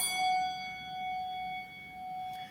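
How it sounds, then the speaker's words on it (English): Handbell rung once, its clapper striking the metal side, leaving a clear bright tone with high overtones that rings steadily and slowly fades over a few seconds, alone and close. "the clapper is what is striking the bell"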